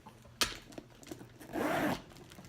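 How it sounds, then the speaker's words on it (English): A zipper on a leather Gucci GG Marmont matelassé shoulder bag is drawn open in one long smooth pull, a steady rasping zip near the microphone, after a sharp click and a few faint handling taps. "This opens with a zipper."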